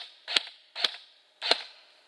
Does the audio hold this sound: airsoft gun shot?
yes